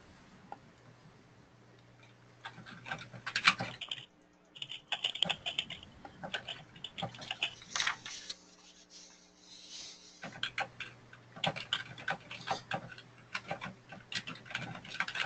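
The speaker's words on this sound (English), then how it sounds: "I hear a lot of typing going on" Computer keyboard typing, with rapid, irregular clusters of close key clicks in bursts, a brief pause near four seconds and another quieter gap around nine to ten seconds, over a faint steady hum.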